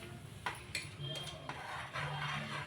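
A spoon stirring and scraping a garam masala, coriander and turmeric mixture in a metal pot for egg biryani, with a few sharp clinks against the rim over a faint low hum.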